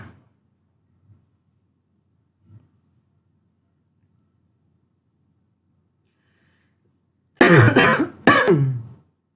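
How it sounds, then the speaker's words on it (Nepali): A cough and throat clearing, a short cluster of two close, loud bursts near the end after a long quiet stretch with only faint low sounds. "मौसम चेन्ज भएर चाहिँ अलिकति चिसो लाएर खोकी लाग्यो।"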